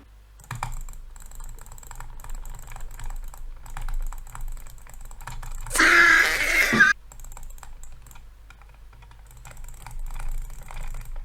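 A computer mouse is clicked as fast as possible during a click-speed test, giving dense, rapid, close clicking throughout. A brief loud noise burst interrupts it midway, and the clicking then continues steadily.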